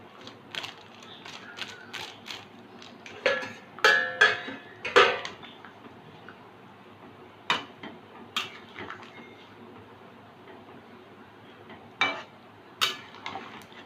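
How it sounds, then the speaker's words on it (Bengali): A spoon scraping and clinking against a pot while garam masala is stirred into a thin goat meat and potato curry; scattered sharp metallic taps, some in quick clusters, over quiet kitchen background. "গরম মশলাটা মিশিয়ে নিলাম"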